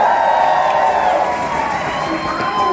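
Crowd at a drag concert cheers and whoops loudly, a sustained roar of voices with scattered shouts rather than distinct clapping.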